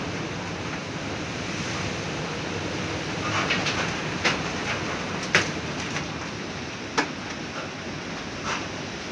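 Strong typhoon wind roars steadily outside a house in Abuyog, Leyte, with light rain, a continuous broadband rush with a few sharper gusts and knocks standing out now and then.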